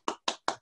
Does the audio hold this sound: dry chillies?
no